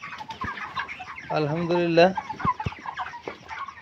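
Broiler chickens on a farm of about 500 birds cluck and squawk close by, with one louder drawn-out call in the middle, while someone speaks briefly over the flock.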